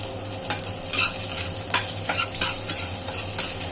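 Food cooking in a pan for prawn and dried-fish curries, with steady sizzling and repeated stirring strokes scraping through it, moderately close and without any voices.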